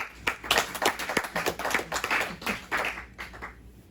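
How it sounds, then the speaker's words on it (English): A small gathering claps for a speaker at a recovery-center event, a few seconds of close, uneven hand claps from a modest group that thin out toward the end. "Please give him a round of applause."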